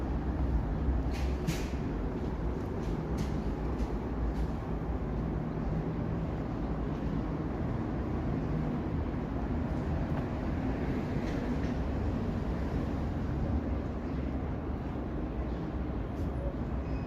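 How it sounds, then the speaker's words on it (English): A train passing in Toronto: a steady, loud rolling rumble that lasts throughout, with scattered metallic clicks and clacks. "if you're into trains, obviously it's a great place to go and watch some trains."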